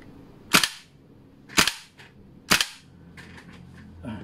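A WE AK-74 airsoft gas blowback rifle with real wood stock fires three sharp, evenly spaced shots at close range, each with a brief mechanical clack, then faint handling noises.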